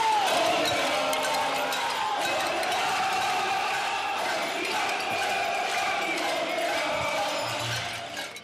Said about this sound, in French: la foule, composée essentiellement de jeunes,